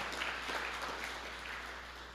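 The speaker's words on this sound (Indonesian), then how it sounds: "Berikan tepuk tangan yang meriah buat Tuhan." A church congregation claps for God during a sermon, a faint, distant wash of applause spread evenly across the room.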